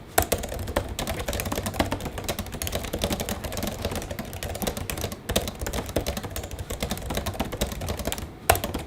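Steady typing on an ergonomic computer keyboard, a dense run of close key clicks and taps continuing without pause, with a sharper clack near the end.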